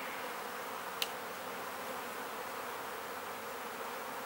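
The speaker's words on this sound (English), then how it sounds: "Bees are coming and going like nothing's going on." A steady, dense buzz of many bees flying around a hive just treated with oxalic acid vapor, humming continuously nearby, with one brief sharp click early on.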